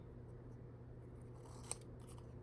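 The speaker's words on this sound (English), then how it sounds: "I like to use my smaller scissors, of these cutter bee scissors, to do the little rounded notched corners" Quiet snips of small scissors cutting notched rounded corners on a paper ticket, a few soft cuts with one sharper close snip near the end, over faint low hum.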